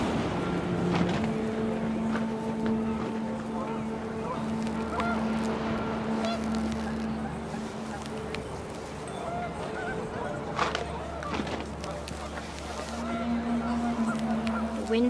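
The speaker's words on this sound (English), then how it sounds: "panicked geese appeared and quickly went" Panicked geese honk repeatedly in a tense scene from the game What Remains of Edith Finch, their calls steady and fairly close over a wind-swept outdoor backdrop, with a voice speaking throughout.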